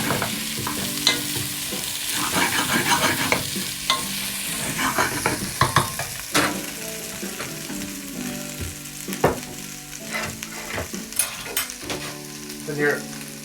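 A spoon stirs a beef stew with bay leaves and dried thyme in a pot, scraping and knocking in irregular strokes over a low sizzle, close and fairly loud.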